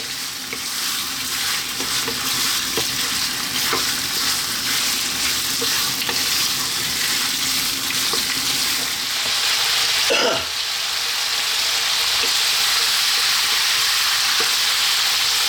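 Pieces of lamb fry in a pot over medium heat, sizzling steadily while a utensil stirs them, with scraping strokes and one louder clatter near the end; no one speaks.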